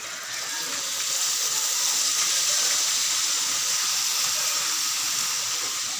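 Bitter gourd (ampalaya) dropped into a pan of sautéed, toasted tomatoes, giving a steady, loud, hissing sizzle that holds without a break for the whole stretch, with no voices over it.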